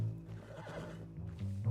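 A horse in a video game gives a short, close neigh, a loud whinny that fills nearly the whole brief moment and ends with a low snort-like tail.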